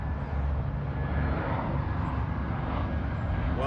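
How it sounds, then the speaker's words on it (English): An airplane passes overhead somewhere in Connecticut, a steady broad engine rumble and roar holding at moderate loudness through the whole stretch, with no voices. "there's a plane passing by."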